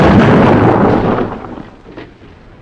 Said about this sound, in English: Mystery explosion wrecks Pierre's car